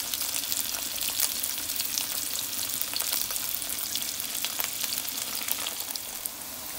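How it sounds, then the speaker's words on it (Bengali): Chopped onion, garlic and chili fry in a pan, giving a dense, continuous close sizzle with faint crackles and light stirring, steady and fairly loud with no voices. "সাথে দিয়ে দিচ্ছি পেঁয়াজ কুচি, রসুন কুচি, মরিচ। এটাকে একটু আগে ভালো করে ভেজে নিব।"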